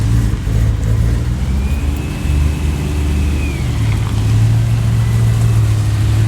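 A BMW rolling up at a car meet, engine droning low and steady with a brief rising whine partway through, close by with no talk over it.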